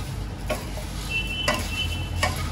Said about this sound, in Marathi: जरा भाजून घेते मी ह्याला